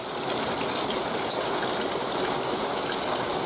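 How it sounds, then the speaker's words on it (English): Heavy rain pours down over a vegetable garden during a potato harvest, giving a dense, unbroken hiss that stays loud and steady throughout. "It's tipping down."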